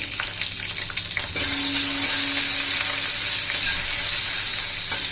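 Curry leaves, ginger-garlic paste and slit green chillies sizzle loudly in hot oil for a tadka, a steady close, bright crackle filling the whole stretch with a faint stir partway through.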